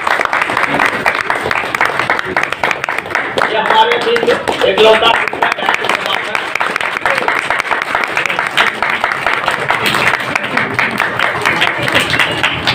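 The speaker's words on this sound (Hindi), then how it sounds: "तालियों से" A crowd at a large community gathering applauds loudly and continuously during a garlanding ceremony, while someone speaks over the clapping.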